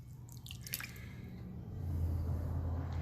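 Cup of water, half cup of vegetable oil and three eggs dumped into cake mix in a bowl, giving a brief wet splash and drip followed by a low, steady squishy pour, close and moderately loud with no talking.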